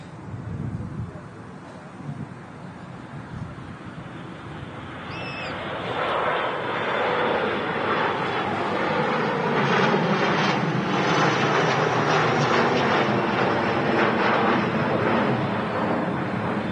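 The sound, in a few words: Saudia Boeing 787-9 Dreamliner taxiing at Manchester Airport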